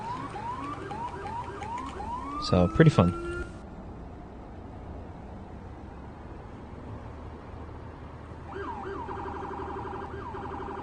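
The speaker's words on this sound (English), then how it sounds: "So I can just spam R and it keeps changing the siren" Police siren tones in a video game switch rapidly between wailing patterns, loud at first with a short burst of clatter, then a quieter stretch before the siren returns near the end under a voice speaking.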